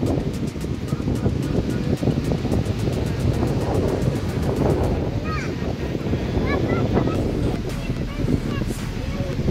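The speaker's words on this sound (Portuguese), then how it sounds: "Ventando bastante, pessoal." Strong wind roars across the microphone at Gravatá beach in Navegantes, with surf in the background, a dense continuous rush under a voice and a few faint bird chirps.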